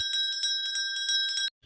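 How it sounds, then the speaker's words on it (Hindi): A bell in a Hindi cartoon story rings at dawn with a rapid run of about eight bright, ringing strikes, loud and close, before cutting off abruptly. "ये कौन घंटी सुबह सुबह बजा रहा है?"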